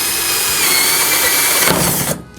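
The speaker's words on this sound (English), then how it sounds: "drill a hole for our water feed tube to go into" A power drill whines steadily at high speed for about two seconds while drilling a hole in a 5-gallon plastic bucket, then stops abruptly, heard up close with no talking.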